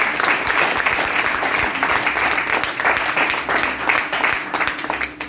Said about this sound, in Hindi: एक बार जोरदार तालियों से अपने आप का वेलकम।